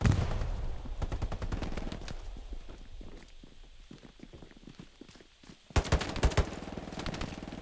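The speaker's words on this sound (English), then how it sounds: "Machine gun near Charlie" Hell Let Loose video game machine gun fire: rapid, steady bursts of distant shots, then a louder, closer volley near the end.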